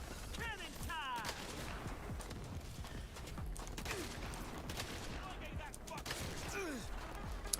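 Cannon fire in the action game Saints Row: Reboot, with repeated booming blasts and gunfire-like bursts over a dense, busy game soundscape that stays loud throughout.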